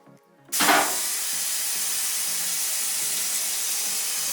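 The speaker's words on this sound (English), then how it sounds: "Start by draining the water in the system." Water rushes steadily from an opened drain in a large house's plumbing system, starting abruptly with a loud hiss and spray, then holding a constant, close, broadband flow with no talk.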